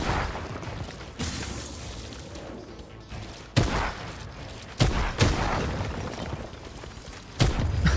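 Fortnite gunfire in a ranked match: sustained rapid shooting with several sharp, louder bursts standing out against a dense rumbling background, close and intense throughout.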